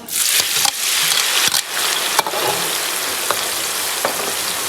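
Red chilies sizzle in hot oil for a spicy beef sauce, making a loud, close crackling hiss with scattered sharp pops and stirring knocks. There is no speech over it.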